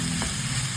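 Ground meat with potatoes and carrots sizzling steadily in a pan as it is stirred, a dense, continuous frying hiss throughout the short moment.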